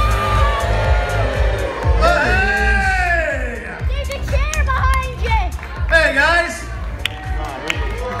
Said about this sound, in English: I think we should all moo to get him out of here